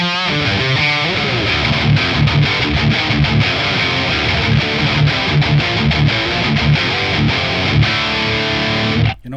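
An electric guitar tuned to drop D, played through a ToneX Diezel amp model with overdrive, chugs out heavy distorted riffs loudly and continuously with no talking.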